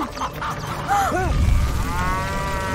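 A cartoon cow lets out a low moo amid creaking, ratcheting mechanical noises and a rumbling background, in an animated farm fire rescue scene.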